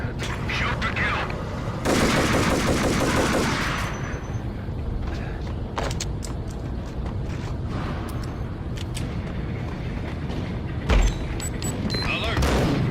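Gunfire in the video game Max Payne: a dense burst of rapid shots up front, then scattered booms and impacts over continuous game noise and music.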